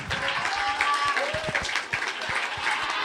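Applause from an audience at a high school event, steady clapping from a crowd lasting a few seconds, with some voices underneath.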